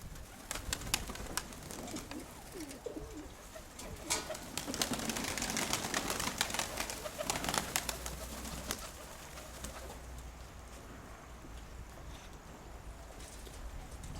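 Pigeons coo softly amid steady wind and water noise outdoors, with scattered sharp clicks and rustles throughout.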